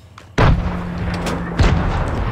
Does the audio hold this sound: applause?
no